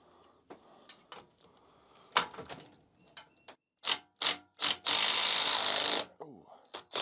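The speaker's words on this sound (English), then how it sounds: "Let's try to get the flywheel off." Mechanical work on the flywheel of a 1966 British Seagull outboard motor: scattered metallic clicks and knocks, a run of sharp loud impacts, then a sustained harsh grinding or rasping burst, close by with no talk.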